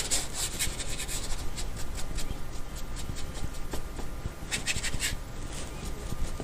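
Paint is rubbed onto a grayscale painting in steady, close scratchy strokes, a continuous dry rasping with brief brighter scrapes throughout.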